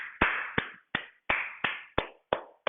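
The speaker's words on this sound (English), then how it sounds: "Round of applause, folks." Sparse, evenly spaced claps ring out one at a time, about eight sharp slaps in a slow rhythm, close and clear with silence between them.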